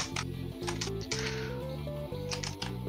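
Rapid, loud clacking of keys on a computer keyboard, steady and continuous over backing music.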